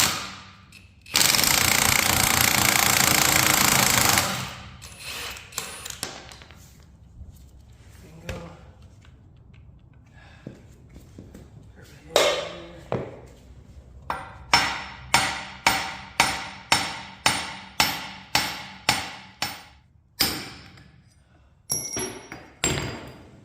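Hammer blows drive the pinion out of a Sterling 10.5 axle, starting with a few scattered metallic strikes and then a fast regular run of loud, ringing hits, heard after a burst of harsh noise at the start.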